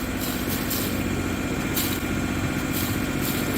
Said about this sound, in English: we're going to rev up to 1500 now